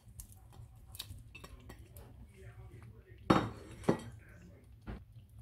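Two chopped carrots are tipped into a cooking pan on a low-heat stove, making a couple of clattering knocks against the metal amid soft utensil clinks and quiet kitchen sounds.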